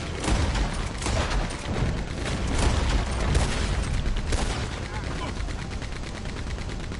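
Gunfire during a shootout in Red Dead Online, a dense, continuous stretch of overlapping shots and cracks, loud and close, with several sharper reports standing out from the steady clatter.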